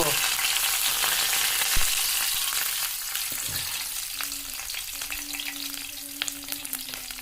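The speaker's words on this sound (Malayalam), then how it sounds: "മീൻ പൊരിക്കാനുള്ള എണ്ണയിലൊക്കെ ഒഴിക്കുകയാണ് ഇപ്പോൾ കരിവേപ്പിലിട്ട് കൊടുത്തതാണ്" Curry leaves sizzle and crackle in hot coconut oil nearby, a dense hiss with scattered pops and a faint tonal hum later on.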